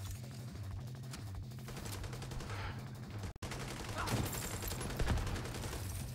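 Rapid gunfire in The Division 2 as players shoot at barrels, a dense fusillade of shots that swells louder toward the end, with a brief dropout midway and faint voices underneath.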